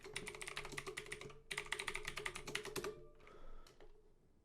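Quiet typing on a computer keyboard: a quick run of key presses, a brief pause, then another rapid burst followed by a few scattered final taps.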